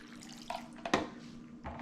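Water poured from a measuring cup into a taco casserole in a baking dish, a short splashing pour with a couple of brief bursts, close and fairly quiet.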